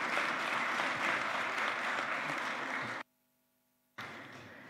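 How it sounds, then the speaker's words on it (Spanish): Steady applause from an audience at a book presentation, dense and sustained, cutting off abruptly to silence before resuming briefly. "les pido un fuerte voto de aplausos también"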